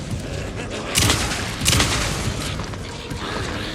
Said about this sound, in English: Let's maybe go with the flashbang.